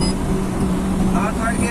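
A Honda car engine running a Hondata K-series tune is revved toward redline in second gear, a short, strong burst of engine drone that climbs in pitch toward the end.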